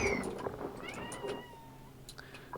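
A cat meows several times, close and fairly loud, with drawn-out, wavering cries over faint background noise.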